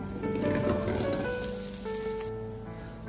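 A potato and egg pancake sprinkled with black sesame fries in a pan, giving a soft, steady sizzle with no talk.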